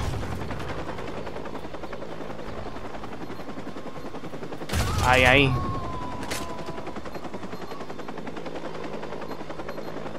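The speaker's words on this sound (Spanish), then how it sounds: "¿No se puede matar al helicóptero?" In the Watch Dogs video game, a helicopter's rotor thrum runs steadily under gunfire bursts, with a sharp burst of shots and a short spoken exclamation near the middle.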